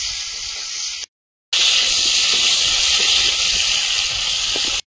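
Fried vegetables go into simmering fish curry gravy with a loud, steady broadband hiss of sizzling and steam, cut by a brief silent gap early on, no voices.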